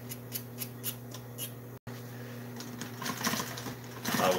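A sewing machine stitches tractor seat upholstery pieces in short bursts of rapid mechanical clatter, pausing briefly, then running faster and louder toward the end.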